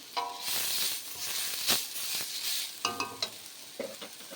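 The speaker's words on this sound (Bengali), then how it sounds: "তো ডালটা আমার সুন্দর করে ভাজা হয়ে গেছে, ঝরঝর হয়ে গেছে।" Washed mung dal being fried and stirred in a wok gives a close sizzle broken by repeated scraping strokes of a spatula in an irregular rhythm. No one speaks.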